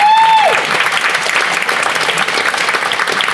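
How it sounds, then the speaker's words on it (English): A crowd at a spoken-word session in South Africa claps and applauds continuously, dense and lively, right after a brief whistle-like tone at the start. "Give yourselves a round of applause"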